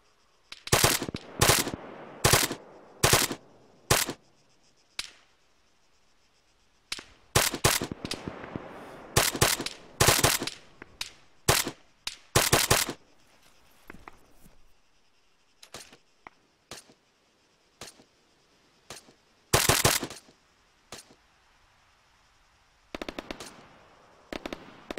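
Gunfire in the Arma 3 military video game: bursts of rapid automatic shots alternate with single sharp cracks, some loud and close and others fainter, separated by short quiet gaps.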